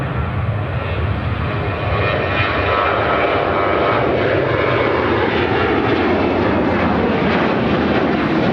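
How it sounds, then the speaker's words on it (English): An airliner takes off from Chicago O'Hare, a loud, continuous jet engine roar with a shifting whine that stays strong throughout, no speech. "Airlines 2232 taking off to Portland"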